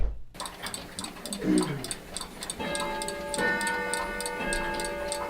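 Many antique clocks tick together in a clock museum holding more than 2,000 clock faces, a dense, layered ticking at several overlapping tempos, fairly loud and close, with a ringing chime swelling up partway through.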